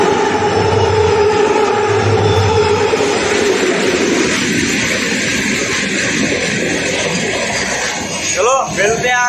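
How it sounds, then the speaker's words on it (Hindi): A local train arriving at a station in India, a loud rumbling roar of wheels and engine that builds then eases, with a person talking over it. "ट्रेन आ रही है भाई, ट्रेन आ रही है।"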